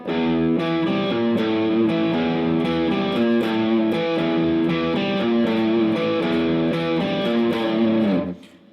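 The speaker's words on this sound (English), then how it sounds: "I sort of like to give it a little bit of vibrato on this note." Distorted electric guitar notes played with vibrato ring out one after another, sustained with slight wavering pitch, loud and continuous before stopping abruptly.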